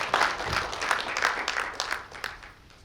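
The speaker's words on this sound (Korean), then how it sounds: "박수로 맞으십시오" An audience at a media literacy conference claps to welcome a speaker, distinct overlapping claps in a brisk, uneven rhythm that thin out and fade toward the end.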